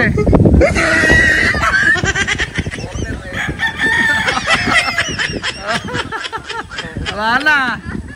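A rooster crows and chickens cluck amid an excited, noisy crowd with shouting and cheering throughout, in Cavite, Philippines.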